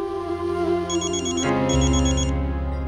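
An electronic phone ringtone plays loudly and steadily, a repeating melodic pattern with a louder low tone joining halfway through.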